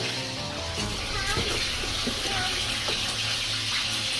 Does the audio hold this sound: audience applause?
no